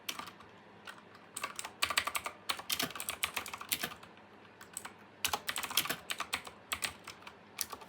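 Close, quiet computer keyboard typing, with irregular bursts of rapid keystrokes separated by brief pauses.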